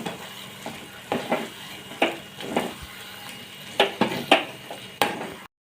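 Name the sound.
fenugreek leaves stir-fried in garlic paste and oil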